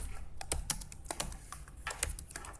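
Quick, close taps on a computer keyboard while JavaScript code is typed, coming in an irregular run of crisp clicks with no voices.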